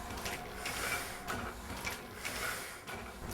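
A letterpress printing press runs in a steady mechanical cycle, with clanking gear and ratchet sounds repeating about every second at a moderate, even level and no talking.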